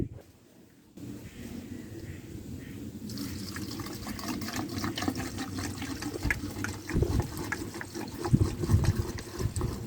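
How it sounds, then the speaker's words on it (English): Starbright -50°F marine antifreeze glugging steadily from a jug into the sterndrive engine of a boat with a 1991 Mercruiser 4.3 V6 Alpha One, a continuous close pour after a brief quiet start, rising slightly in level toward the end. "I'm just going to start dumping antifreeze."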